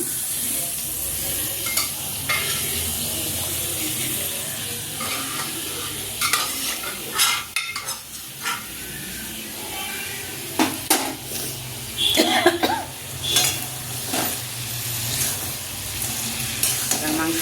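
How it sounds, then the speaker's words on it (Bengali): Mutton sautéed in spiced masala in a pan, with a constant sizzle broken by repeated scraping and clattering stirs of the spoon against the metal, fairly close and busy, with no talk. "এই যে মশলা কষানো হয়েছে এর মধ্যে দিয়ে দেবো ভালো করে কষিয়ে"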